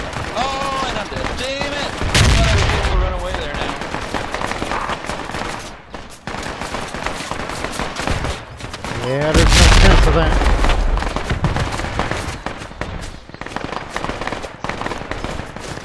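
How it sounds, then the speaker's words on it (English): Bursts of rifle and machine-gun fire from the military shooter Project Reality, set at the Battle of Ia Drang, crackle through much of the stretch, with louder volleys now and then and people talking over the shooting. "Funny how they keep on shooting even though I already left the area"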